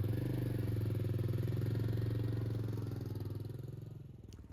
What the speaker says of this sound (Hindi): बाइक तो बढ़िया चल रही है